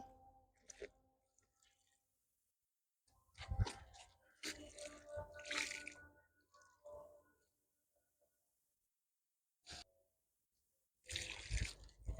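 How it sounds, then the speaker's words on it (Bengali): Water is poured onto newly planted tomato seedlings in a rooftop garden, heard as faint, intermittent bursts of splashing and trickling separated by near-silent pauses. "এখন আমি সামান্য এখানে জল দিয়ে দেবো"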